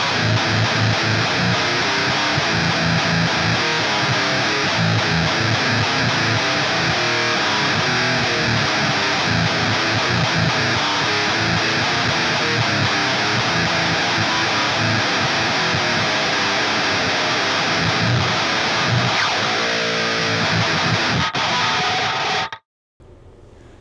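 Harsh, heavily distorted guitar noise roars continuously at high volume through a Boss Metal Zone pedal at maximum distortion, a thick fuzzy wall of sound that cuts off abruptly near the end.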